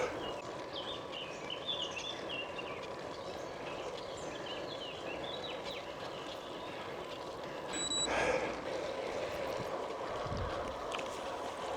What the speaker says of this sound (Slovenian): Sam poslušajte, kako ptički pojejo.